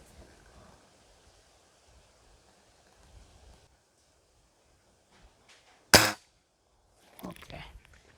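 Spring air rifle fired at a target: a single sharp crack stands out in otherwise quiet surroundings, followed by a softer rattling burst of mechanical noise shortly after.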